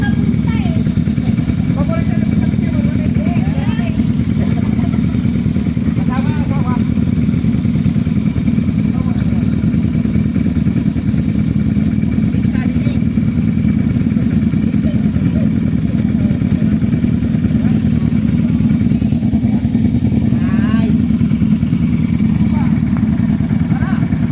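A motorcycle engine drones steadily throughout on a ride to Tagaytay, a constant low rumble like riding along, with wind noise and faint talk mixed in.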